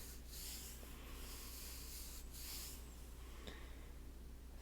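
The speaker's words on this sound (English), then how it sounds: "Rubbing it in." Soft, close rubbing of hands over a person's body during a Reiki massage, slow brushing strokes repeating in quiet swells with no talking.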